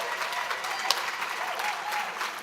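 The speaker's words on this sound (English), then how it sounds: "Please give a round of applause for each student who has been" Steady audience applause at the 2025 Goldie Awards for Writing Academy student graduates, moderately distant clapping from a room crowd sustained throughout with one sharper clap near the start.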